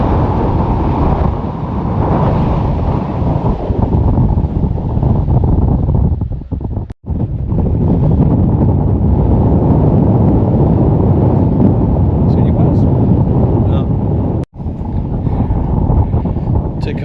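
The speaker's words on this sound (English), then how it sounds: "And it's blowing a gale." A gale blowing across an observatory hilltop near Esperance, roaring constantly and loudly into the microphone with heavy buffeting and two brief dropouts.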